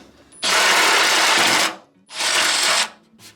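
Two loud bursts of a power drill biting into metal, the first longer, with a brief pause between them.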